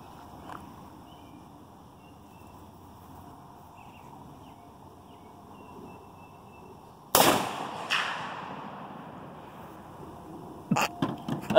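A Tanfoglio Thor .308 rifle fires a single loud shot fired into a bag, a sharp nearby crack followed by decaying echoes and several softer knocks and clatters afterward.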